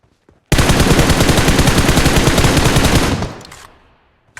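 A long, rapid burst of automatic video-game gunfire, loud and close, firing steadily for about two and a half seconds before cutting off, with a few faint clicks around it.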